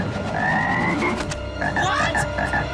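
A frog croaks in a live-action superhero action scene, with busy effects and music around it and a few sharp hits mixed in.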